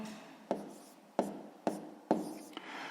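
Handwriting fractions in a math exercise, four distinct scratchy pen or pencil strokes at a steady rhythm with light rubbing between them, close and quiet, with no talking.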